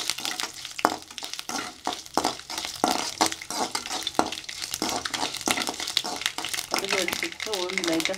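Mustard seeds and urad dal splutter in hot oil in a kadai with quick irregular pops and a crackling sizzle, close to the mic. Faint background sounds sit under it.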